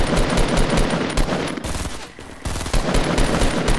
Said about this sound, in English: Oh shit, you're shooting.